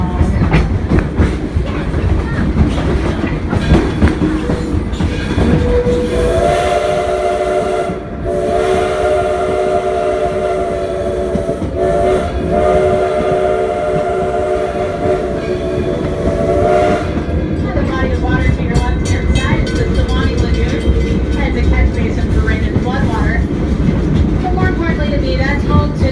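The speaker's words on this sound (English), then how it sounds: "you're going to hear the North American signal for a railroad crossing. Listen for 2 long whistles, 1 short and 1 long." A train whistle sounds the North American railroad-crossing signal at Greenfield Village near Smith Creek station, loud and close, with long blasts and short breaks over the rumble and clickety-clack of the moving train.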